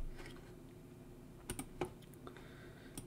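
Fingers tap out a short burst of keystrokes on a computer keyboard, quiet clicks scattered irregularly over a low steady room hum, with a few sharper presses standing out.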